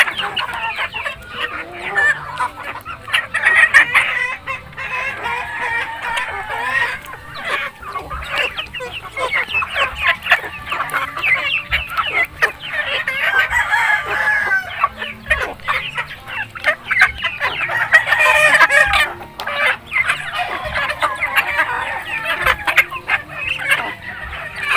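Mixed native and Rhode Island Red chicks in a brooding pen, a steady busy stream of high peeping and cheeping that carries on without pause, close and fairly loud, with occasional faint human voice in the background.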